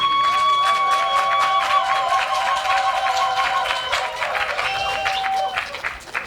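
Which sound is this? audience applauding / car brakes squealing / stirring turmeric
audience applauding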